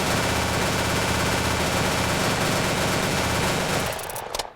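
Rapid gunfire from the Contraband gun in the video game ANEURISM IV, a dense continuous burst of fast shots that is loud and steady for about four seconds, then cuts off with a brief tail.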